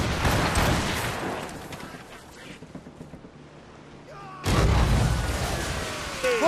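Naval cannon fire from sailing warships in the Assassin's Creed Rogue video game, heavy booming volleys at the start and again after a quieter gap, loud and rumbling with splashes and creaks between.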